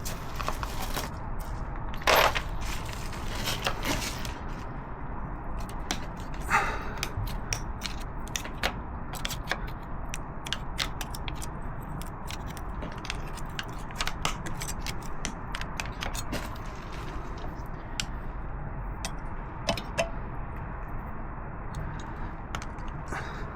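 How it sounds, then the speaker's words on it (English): Screwdriver prying at a stuck lock washer on a Ducati Multistrada motorcycle during chain and sprocket replacement, a close continuous metallic scraping and clicking with occasional sharper clinks, no talking. "Need a screwdriver."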